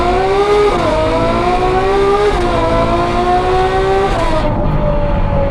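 A Ferrari 812 fitted with a Novitec N-Largo exhaust revs hard and loud, its V12 howl climbing through rising tonal sweeps with brief dips between pulls, sustained and close before cutting off.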